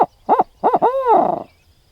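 An owl locator call imitates a barred owl with a series of loud, close hoots that rise into a drawn-out, wavering final note.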